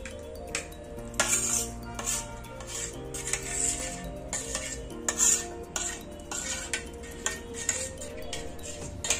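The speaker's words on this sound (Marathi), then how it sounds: "गाळणीच्या सहाय्याने आपण बाउल मध्ये गाळून घेऊ" Raw mango pulp for kairiche panhe is stirred and pushed through a metal sieve into a bowl, giving repeated clinks and scrapes of utensil on mesh and rim in an irregular rhythm, close and fairly quiet.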